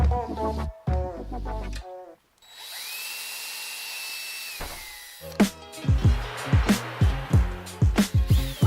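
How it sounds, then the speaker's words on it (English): A miter saw cuts small wood pieces for a soldering fume fan build: a steady motor whine holds for about two seconds, close and loud, framed by sharp knocks and clattering handling noises before and after. "we're going to go cut those with the miter saw"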